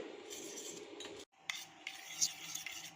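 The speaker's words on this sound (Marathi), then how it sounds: "तोपर्यंत ढवळायचं आहे म्हणजे खाली लागायला नको" A utensil scrapes and stirs melting jaggery syrup in a pan, with close rhythmic rasping strokes and soft metallic clinks, a brief pause, then more stirring.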